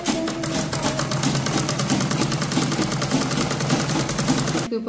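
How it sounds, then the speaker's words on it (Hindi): A sewing machine stitches a long lehenga skirt in a fast, even, rapid-fire clatter that runs steadily and close for several seconds, then stops abruptly. "इसके ऊपर रख के और सिलाई चला देनी है।"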